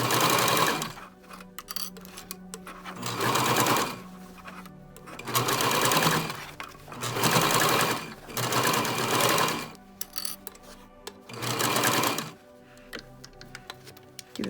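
A sewing machine stitches a fabric face mask in several rapid, rattling bursts of a second or two each, separated by short pauses and light handling clicks, close and fairly loud.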